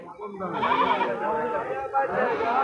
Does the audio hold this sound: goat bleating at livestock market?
yes